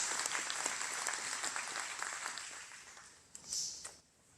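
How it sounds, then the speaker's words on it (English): A round of applause from the audience at a community meeting and memorial in John Day, Oregon, steady at first, then thinning out toward the end with a few last scattered claps. "Please give them a round of applause"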